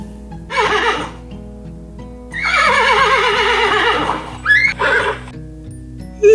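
A horse neighs repeatedly in a storybook animation of a farmyard, loud, quavering whinnies rising and falling over a soft, steady background melody.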